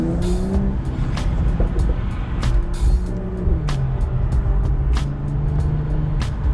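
Mercedes-AMG E53 Coupe engine on a city road, a loud, close cabin-level drone whose pitch rises and falls through gear changes and throttle, with passing whooshes and no talking.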